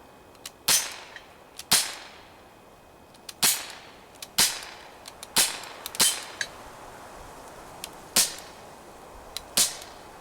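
Glock-style air pistol firing BBs at bottles and a target, about a dozen sharp snapping shots at uneven intervals, each a crisp crack with a short ring-out, fairly close and loud with no talking.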